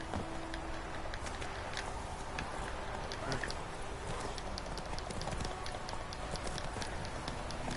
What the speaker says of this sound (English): The horse just went off on a little adventure.